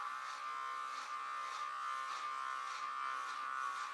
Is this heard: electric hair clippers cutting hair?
yes